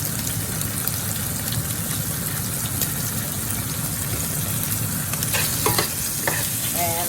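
Onions with Greek spices sauté over medium heat in a pan for a stir-fry, making a loud, dense, continuous sizzle with spatula stirring and scraping, and a few sharper clinks toward the end.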